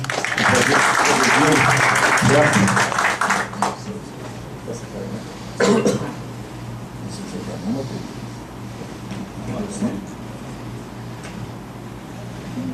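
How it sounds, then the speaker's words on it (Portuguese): Audience applause at a Brazilian social security seminar, a loud burst of clapping for a ministry adviser that fades after a few seconds, followed by quieter room noise and occasional talk. "dar uma salva de palmas aqui"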